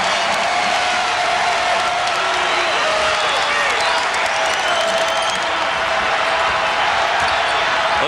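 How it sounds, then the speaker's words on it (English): A loud basketball arena crowd roars and cheers continuously, with the squeak and bounce of play beneath the noise. "And the crowd making a lot of noise."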